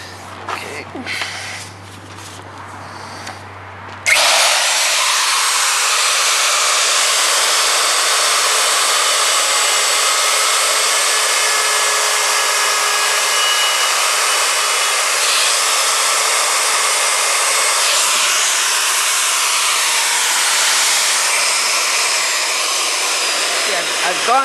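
Handheld wood router spinning up and cutting wood: after a few seconds of quiet handling, a loud, steady high-pitched whir holds continuously to the end, with slight shifts in tone as the cut proceeds.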